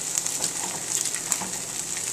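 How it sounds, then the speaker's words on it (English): Food sizzles steadily in a hot pan, a continuous bright hiss with small pops and crackles throughout, close and fairly loud, with no talking. "They're frying up a little bit."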